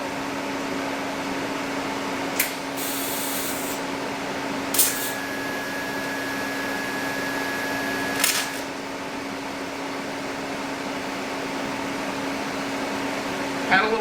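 A TIG welding arc fills old scope mounting holes in steel, making a steady close hum and hiss that runs throughout, with a few brief sharp crackles and pops as the puddle is worked.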